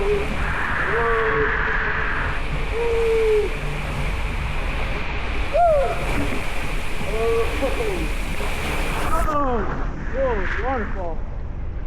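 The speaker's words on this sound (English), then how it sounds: "Waterfall." A steady, rushing splash of a waterfall at the Hurricane Harbor Oaxtepec waterslide park fills the whole stretch, while people whoop and shout over it in bursts.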